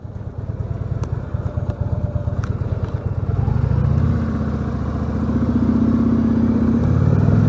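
Heavy 400 kg motorcycle with no reverse gear, its engine running steadily at low revs while being manoeuvred at a standstill, a continuous close rumble that swells slightly midway, with occasional light clicks.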